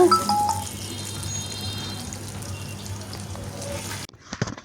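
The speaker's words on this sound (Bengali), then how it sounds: "একটু লবণ দিয়ে মেখে ভেজে নিচ্ছি" Spiced pabda fish, rubbed with turmeric, salt, chilli, coriander and ginger-garlic paste, fry in a pan with a steady, close sizzle that stops abruptly near the end, followed by a few faint clatters.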